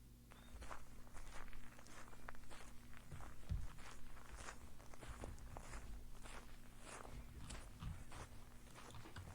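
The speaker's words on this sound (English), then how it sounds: "Gravel road walk." Footsteps crunch along a gravel road in a binaural sound effect, a steady walking rhythm of close, quiet, gritty steps continuing throughout.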